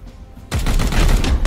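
A sudden burst of gunfire in the video game Warhammer 40,000: Chaos Gate Daemonhunters, starting abruptly after a quiet half-second and continuing as loud, rapid, crackling shots to the end.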